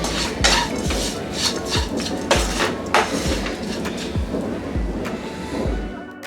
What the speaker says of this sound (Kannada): ಇದಕ್ಕೆ ಜಸ್ಟ್ ರೈಸ್ ಹಾಕ್ಕೊಂಡು ಮಿಕ್ಸ್ ಮಾಡ್ಕೋಬೇಕು ಅಷ್ಟೇ